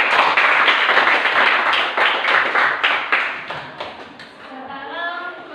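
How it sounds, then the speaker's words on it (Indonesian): A classroom of students claps together in a burst of quick, overlapping hand claps that gradually thin out and fade, with a voice speaking as it ends. "Oke, tepuk tangan dulu."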